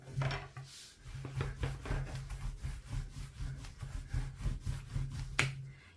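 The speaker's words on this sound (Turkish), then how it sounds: "oklavaya sarıp yan tarafı açalım" Phyllo dough for a hand-rolled Turkish börek being wrapped on a long thin rolling pin and rolled out, giving repeated soft rubbing and wooden rolling strokes in a steady rhythm, close and moderately loud, with no talk.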